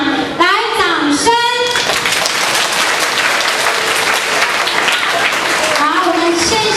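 Audience applause at an award presentation during a school parent-child workshop, a dense steady roar of clapping throughout, with a voice speaking over it at the start and again near the end.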